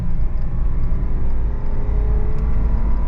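A 2020 Toyota 4Runner pulls away from a green light, its engine and drivetrain rumbling low and steady from inside the cabin, with road noise under a continuous whir.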